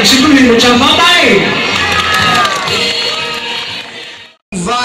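A parade crowd at a Lunar New Year procession in San Jose applauds and cheers loudly, with shouts and voices rising over the clapping before the noise cuts off abruptly near the end.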